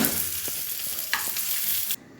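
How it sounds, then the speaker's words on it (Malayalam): Raisins and cashews fry in hot ghee in a pan, giving a steady close sizzle with light stirring taps; the sizzle cuts off abruptly near the end. "ഇനി ഇതിൻ്റെ കൂടെ തന്നെ കുറച്ച് കിസ്മിസ് കൂടി ഇട്ട് ഫ്രൈ ചെയ്തെടുക്കാം."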